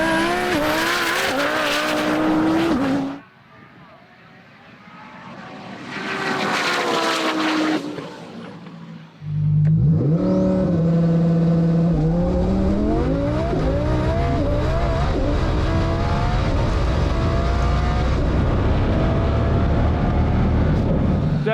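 A twin-turbo supercar making about 1500 horsepower at the hub roars down a runway at a no-prep drag event, loud engine notes climbing through gears and fading, then a second hard launch with rising revs that stays close and intense.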